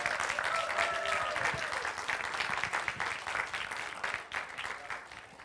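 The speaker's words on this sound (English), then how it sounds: "please stand up and take another bow and another round of applause" A room full of people gives a steady round of applause for actors standing to take a bow, sustained and even for several seconds without pause.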